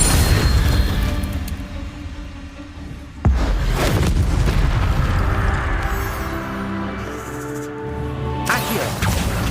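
A fire spell is cast in Hogwarts Legacy, a loud burst with a whooshing, crackling roar of flames and dense game sound effects. A sharp impact lands partway through and the noise then fades out.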